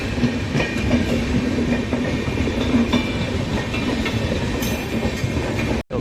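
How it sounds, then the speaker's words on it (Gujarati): Passenger train number 16338 from Ernakulam to Okha rolling into Surendranagar junction, a steady loud rumble of wheels and carriages with faint rhythmic clatter throughout, cutting off abruptly near the end. "તો બે ટ્રેન એકાયરે એન્ટર થઈ ગઈ"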